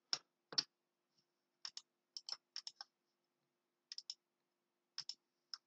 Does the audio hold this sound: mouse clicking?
yes